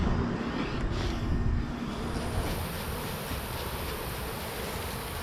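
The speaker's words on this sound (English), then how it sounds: "There's only a few hundred bees left flying" Dense buzzing of many honeybees in flight around a hive removal at sunset fills the air, a continuous droning hum with no talking, slightly louder at first then holding steady.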